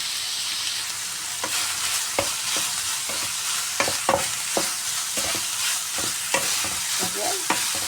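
Chili peppers sizzle and fry in a pan at home, with steady crackling broken by scattered scrapes and clinks of stirring, fairly close and continuous with no talking.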